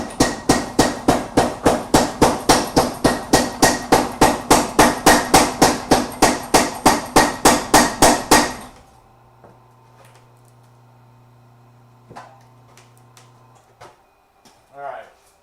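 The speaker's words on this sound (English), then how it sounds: "Let me hit that with the power hammer." Power hammer pounding a billet of cable Damascus steel in a forge shop, a loud, rapid, evenly spaced run of heavy blows for about eight seconds, then stopping, followed by scattered faint clanks and taps.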